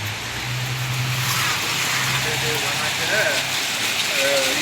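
Steady rain pours down on a street lined with shops and houses, a dense, even hiss that continues throughout, with faint vehicle or voice tones rising briefly near the end.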